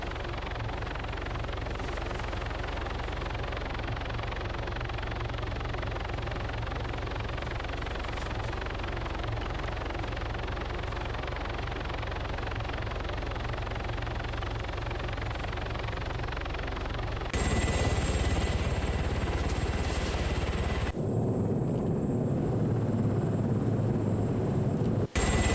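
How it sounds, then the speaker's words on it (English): A helicopter in a squad-based video game campaign, its steady engine and rotor drone filling the scene at moderate level for most of the stretch before shifting to a different, harsher tone toward the end. "Bring a helicopter with a squad in."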